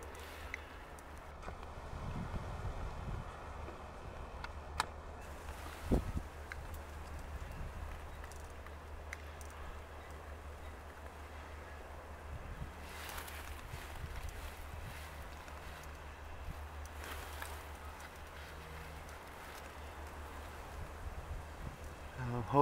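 Steady wind roars across an outdoor microphone at a seaside harbor with boats, a constant low rumble with occasional gusts and faint knocks, no talking.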